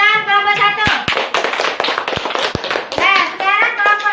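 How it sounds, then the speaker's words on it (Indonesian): Children in a classroom clap their hands for group 1, a burst of sharp scattered claps mixed with lively kids' voices and chatter around them. "Ya, tepuk tangan kelompok 1."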